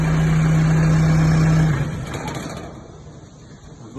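A Kubota diesel engine on a concrete mixer, recently fitted with a replacement injection pump, runs with a steady loud hum and then drops off to a lower, quieter rumble partway through, with no talking.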